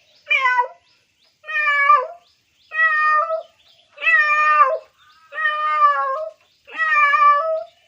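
A man imitates cats meowing and fighting, producing six drawn-out, wavering yowls separated by short pauses, loud and close with no other sound.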